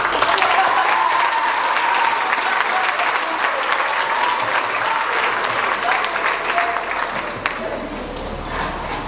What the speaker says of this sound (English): a round of applause to Abigail Goddard and her speech about the beginning of the Earth